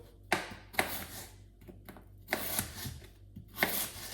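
A knife chops a potato into very small pieces on a board, five or six sharp taps in an uneven rhythm with soft scraping between, close and quiet with no talk.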